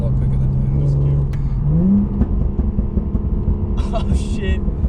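A Holden Commodore VF SV6 fitted with high-flow cats accelerates, its exhaust note rising in a steady climbing drone before settling into a rumbling idle, close and loud, with a brief higher chirp near the end.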